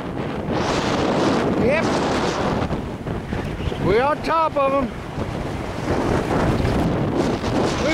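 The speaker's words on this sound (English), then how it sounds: "We can barely hang on up here. It's so damn windy." Strong, high wind buffets the microphone in a constant loud roar atop an outdoor mound, with a voice briefly speaking through it.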